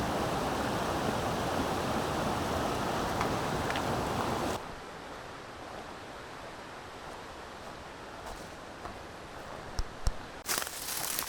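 River rushing past a trail crossing in the New Hampshire backcountry, a steady broadband wash that is loud and near at first, then drops abruptly to a softer, more distant flow with a few small knocks and rustles.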